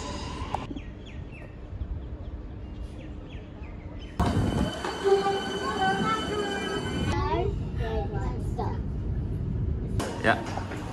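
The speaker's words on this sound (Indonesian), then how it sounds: "ini kita akan ganti kereta ya, dari Richmond ke Lilydale" A suburban train runs along the rail line at Richmond, Melbourne, on the route toward Lilydale, its rumble and squealing wheels growing louder partway through, with birdsong and nearby talk mixed in.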